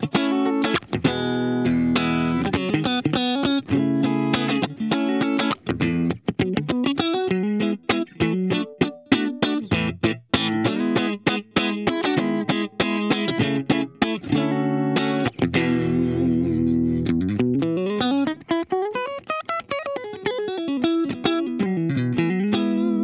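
Clean electric guitar tone through a Line 6 POD HD500X with light reverb, playing a basic pop-style riff and chords, loud and continuous with a sliding run near the end and no talking.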